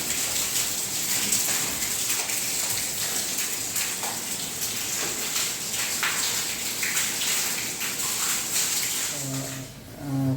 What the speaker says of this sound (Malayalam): ഇവിടെ ഭയങ്കര മഴ വന്നുകൊണ്ടിരിക്കുകയാണ്